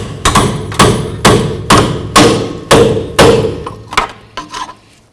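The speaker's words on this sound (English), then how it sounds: "Just take a pry bar and a hammer and just try to get this to bonk out." Metal-on-metal hammer blows on a pry bar ring out in a steady series of about nine sharp, loud strikes, the last few quicker and lighter, during rear shock replacement on a 2003-2009 Toyota 4Runner.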